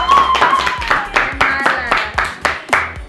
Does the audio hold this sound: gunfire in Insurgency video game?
no